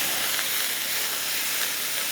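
Chicken spring rolls cooking in a pan on a hot induction cooker, giving a steady, close, even hiss of frying with no breaks.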